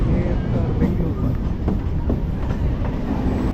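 A MEMU express train pulls away from Tiruvalangadu railway station, with a continuous loud rumble and rhythmic wheel clatter heard up close from on board.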